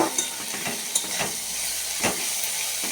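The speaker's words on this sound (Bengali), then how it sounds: "কড়াই আমি তেল বসিয়ে দিয়েছি তেলটা গরম হলে সবজিগুলো এক এক করে ছাড়ব" Vegetables fry in hot oil in a wok for fried rice, giving a steady close sizzle with a few scraping stirs and brief louder bursts, and no voices.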